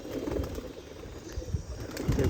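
A pigeon, thought to be a hen, gives soft, low, throaty coos in short repeated pulses close by, over a light background hiss.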